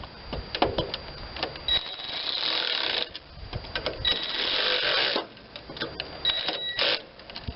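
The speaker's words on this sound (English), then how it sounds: "Certainly don't need a power ratchet for that, but just happen to have one, so hey, let's use it, right?" A power ratchet spins bolts on a Kohler CV460S carburetor on a John Deere LT160 tractor, giving repeated bursts of buzzing, rattling ratchet whir that start and stop over several seconds, fairly close.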